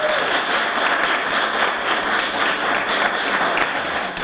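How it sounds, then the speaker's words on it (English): A neighborhood meeting audience applauding, steady, fairly loud clapping from many hands throughout with no voices over it. "Please join me in giving her a round of applause."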